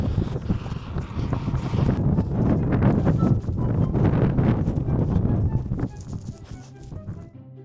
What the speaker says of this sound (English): I came on a windy day today.